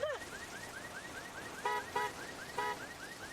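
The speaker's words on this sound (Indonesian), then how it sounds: "membunyikan alarm kunci mobil Christian dan membuangnya ke sungai" A car alarm set off with a key fob chirps in a fast, repeating warble, with three brief louder blips layered over it. It sounds moderately distant and fairly quiet.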